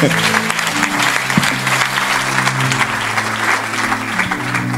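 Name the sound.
audience applauding at a prophetic church service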